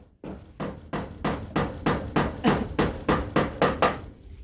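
Hammer blows during house construction land close and loud in a steady rhythm, about a dozen sharp strikes in quick succession, roughly three per second.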